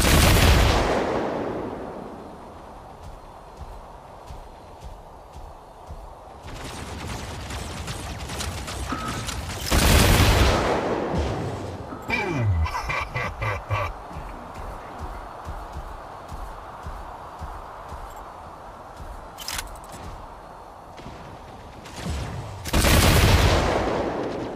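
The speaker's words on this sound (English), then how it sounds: "incoming fire" Mech Arena mobile game battle: bursts of gunfire and heavy artillery booms erupt loudly at the start, around ten seconds and near the end, with rattling mechanical clatter and rapid firing in between.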